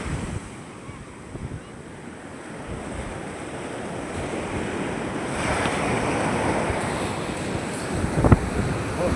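Sea waves wash and break along a shore while wind buffets the microphone, a steady broad roar that slowly swells louder, with a sharper splash near the end.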